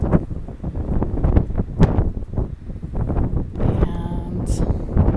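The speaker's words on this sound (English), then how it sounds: "it's very windy" Gusty wind buffets the microphone at an exposed viewpoint on the Tahoe Rim Trail, a loud, uneven rumbling roar that rises and falls throughout.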